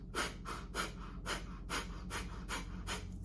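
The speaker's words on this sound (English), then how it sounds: "a fire breath is done with rapid breathing into the diaphragm like this." Rapid fire breathing driven from the diaphragm: about eight quick, forceful breath bursts in an even, steady rhythm, close and loud, with no talking.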